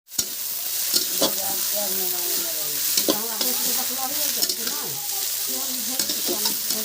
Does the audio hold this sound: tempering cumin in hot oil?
yes